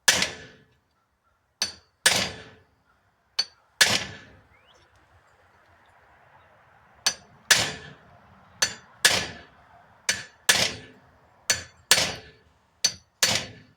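A hammer strikes a horseshoe nail about a dozen times in sharp, ringing metallic smacks, irregularly spaced and close, with a long pause in the middle.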